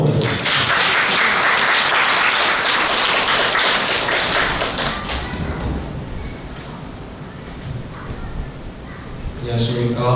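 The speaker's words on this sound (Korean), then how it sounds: "박수로 맞아주세요." A crowd claps loudly and densely at a parent-school gathering, welcoming a student speaker. The applause gradually thins and fades, and voices talk near the end.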